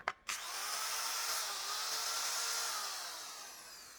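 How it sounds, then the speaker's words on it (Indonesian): A DongCheng DJZ10-10 electric drill bores into meranti wood, a brief start burst followed by a steady, loud, close whirring grind lasting a few seconds and easing slightly toward the end. "Pengeboran dengan bor kipas dan auger bit pada media kayu meranti."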